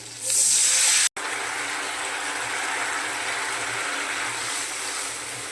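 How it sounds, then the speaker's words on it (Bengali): Tamarind water is poured into a hot cooking pan for a sour mourola fish curry, setting off a loud, steady hiss and sizzle that carries on after a brief break. "তারপর দিয়ে দিচ্ছি এই তেঁতুলের জলটা।"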